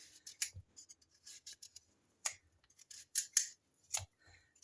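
A knife repeatedly chopping through firm pumpkin on a board, crisp irregular cuts and thuds close up, with no talking.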